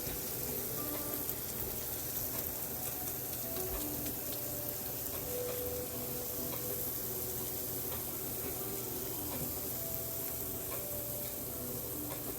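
Bits of ground beef browning in a pan for Korean beef bowls, a soft continuous sizzle at low level with faint scrapes and ticks of stirring and chopping.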